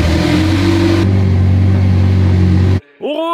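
A rebuilt, previously crashed McLaren 720S runs with a loud, close engine drone that holds steady, cuts off abruptly near the end, then a brief rising whine follows.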